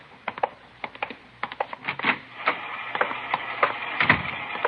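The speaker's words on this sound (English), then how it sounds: "She's running all the cards on previous shooting through the IBM machine." An IBM punch card machine runs in a radio drama, giving off a quick string of irregular mechanical clacks and taps at moderate level, with no one talking.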